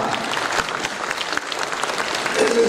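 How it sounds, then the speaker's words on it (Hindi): Steady applause from a crowd at the Bundeli Mahotsav 2023 festival stage event, dense clapping that continues evenly throughout without any speech. "एक बार तालियों के साथ हम अभिनंदन करेंगे"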